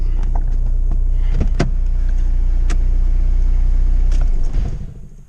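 A 1.9 diesel VW Polo 6N with a failing gearbox drives along, a steady low engine rumble close by with a couple of knocks, then it dies away as the car stops.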